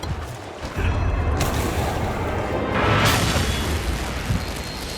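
Valstrax, a dragon in the video game Monster Hunter Rise, diving down to land, heard as a loud sustained roaring rush that swells toward a heavy boom near the end.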